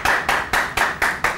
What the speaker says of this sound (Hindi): तालियां हो जाए क्वेश्चंस के लिए.